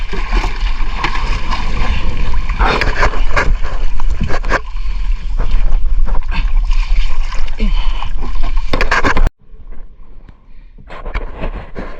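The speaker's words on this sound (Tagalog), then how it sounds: "Malaking bangka yan." A large motorized outrigger boat travelling on the open sea off Camarines Sur, Philippines, gives a loud, steady engine rumble mixed with heavy wind buffeting. The noise drops sharply near the end and continues more quietly.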